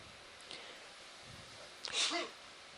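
A single short, sharp sneeze bursts out near the end after a quiet stretch, fairly close and brief, during a deep-sea dive.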